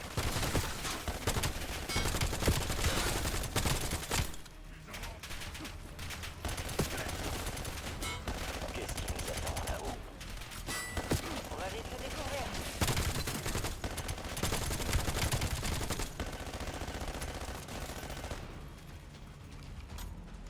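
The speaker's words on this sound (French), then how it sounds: "Je déploie une tourelle automatique." An automatic turret fires in the Black Ops 7 campaign, with continuous rattling gunfire and dense combat sounds throughout, loud and sustained, while voices occasionally speak over the battle.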